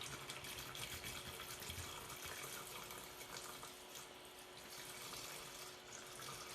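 Isopropyl alcohol is poured into the curing tank of a Formlabs Form 2 3D printer, making a steady, close gushing splash that runs unbroken at moderate volume.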